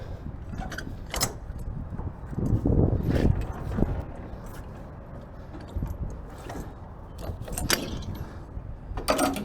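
Landing gear on an older semi-trailer being cranked up by hand, producing irregular metallic clanks, rattles and grinding thuds close by.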